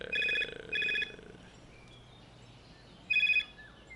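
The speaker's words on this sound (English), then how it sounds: "That is my house phone ringing," A house phone rings with two electronic bursts, then a third after a pause, each about a third of a second long, clear and fairly close over a quiet room.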